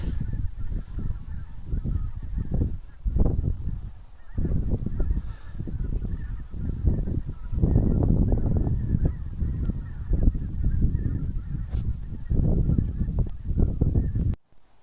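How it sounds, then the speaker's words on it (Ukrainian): Geese honk loudly and repeatedly in noisy bursts, several birds calling over each other nearby, then falling quiet at the end. "Такі гуси."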